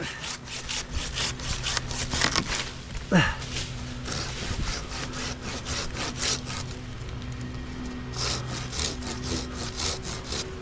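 A hand saw cuts through a tree branch during tree work with cabling, giving repeated rasping back-and-forth strokes up close, with a voice speaking briefly between strokes.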